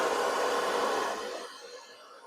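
A heat gun or dryer blows a steady close whoosh onto a K100 motorcycle steering head being preheated for new bearing shells, then fades as it moves away or winds down.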